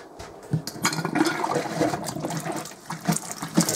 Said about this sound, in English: It's pushing air out, so I'll just let it, there you go, cold water and hot water.